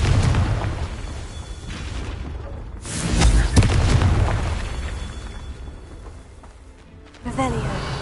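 Confringo blasting spell in the Hogwarts Legacy video game, booming explosive bursts with rumbling decay, two blasts several seconds apart amid game ambience and some speech.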